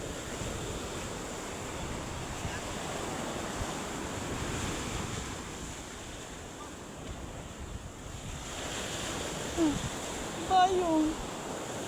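Sea waves washing onto the shore in a steady, broad wash of surf mixed with wind buffeting the microphone, continuous and moderately loud, with a few brief faint sounds near the end.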